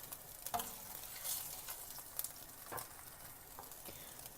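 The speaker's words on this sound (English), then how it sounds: "I want that to splutter." Mustard seeds splutter in hot oil in a pan, a faint, soft sizzle with scattered small pops and crackles, heard alone without speech.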